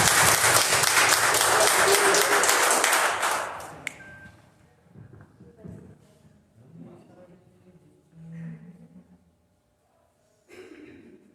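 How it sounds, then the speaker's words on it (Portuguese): A church congregation applauds loudly for about four seconds, then the clapping stops and quiet murmurs, breaths and faint voices remain. "Os irmãos aplaudam o Senhor em nome de Jesus."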